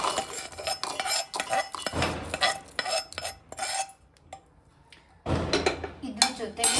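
Fried drumstick pieces are shifted into a mixer jar with a spoon, making a run of close metallic clinks and scrapes against the steel that pause briefly near the end before resuming.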